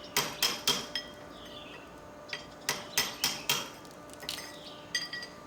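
A chisel knocks mortar out of brick joints in sharp, ringing metallic strikes, first in a quick burst of three, then a later cluster of four and a few scattered taps.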